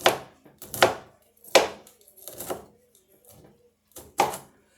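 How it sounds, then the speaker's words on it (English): Broccoli and cauliflower being chopped with a knife on a cutting board: about six sharp, close chops, uneven and spaced, crisp and fairly loud, with quiet pauses between strokes. "please be careful when chopping."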